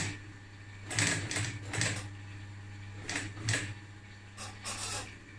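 Sewing machine running a double topstitch through upholstery, with several short bursts of rapid stitching over a low steady motor hum, fairly close and moderately quiet.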